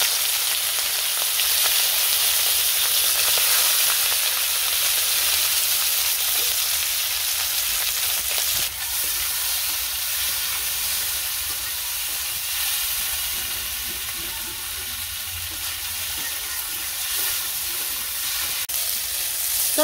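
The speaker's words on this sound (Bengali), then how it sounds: "চচ্চড়ির জন্য পুঁটি মাছ ভাজা হয়ে গেছে" Small puti fish frying in hot oil in a pan sizzle with a steady, bright hiss for the whole stretch, close and continuous, with a few faint clicks.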